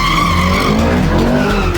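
Tyres of a Ferrari California squeal and skid loudly on a slippery road, a sustained close screech over the engine's rumble.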